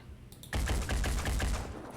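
Rapid burst of gunfire in the tactical video game Phoenix Point, a loud string of sharp, evenly spaced shots starting abruptly after a short quiet lead-in and ringing on close by.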